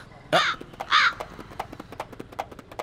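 Crows caw loudly twice in harsh, close calls, followed by a steady run of softer, rhythmic knocking or clip-clop sounds in an outdoor scene from a Hindi-dubbed film.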